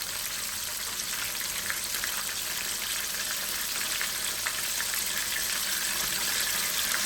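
Chicken pieces in their second fry bubble in hot oil with a dense, steady sizzle and hiss that stays even throughout, heard up close without any voices.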